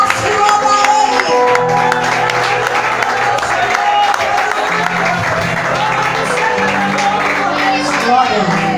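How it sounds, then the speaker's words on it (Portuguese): A church congregation claps steadily throughout a worship service, a dense, continuous patter of applause blended with music and a voice. "Receba a serva do Senhor com palmas que louva o Senhor"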